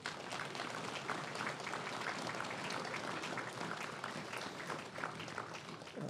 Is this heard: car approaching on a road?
no